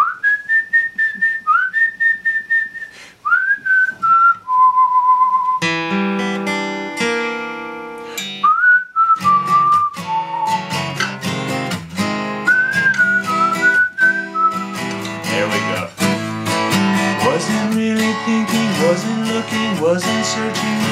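Someone whistles a clear melody alone at first, then the whistled tune carries on over strummed guitar chords, bright and close.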